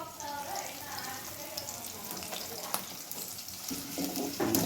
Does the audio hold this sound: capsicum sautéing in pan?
yes